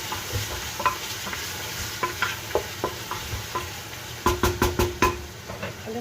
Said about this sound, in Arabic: هنا بنزل الثوم مع ضامه بنه مع الصلصه تقريبا ملعقتين كبار